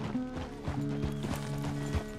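Horse hooves clip-clop at a slow walk in Red Dead Redemption 2, a close, uneven series of knocks mixed with creaking tack and a low mechanical hum.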